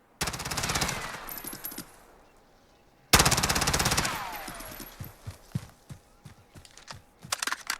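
Rapid automatic gunfire from a Colt 9mm SMG with a conversion kit in Call of Duty Modern Warfare comes in two long, loud, fast-rattling bursts. Each burst is followed by fading tail noise and scattered softer clicks.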